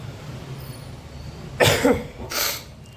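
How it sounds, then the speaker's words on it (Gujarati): A person with a cold coughs twice, two short harsh bursts close by after a quiet stretch of low background hum. "શરદી તો વહી ગઈ, ઉધરસ ચાલુ થઈ હવે"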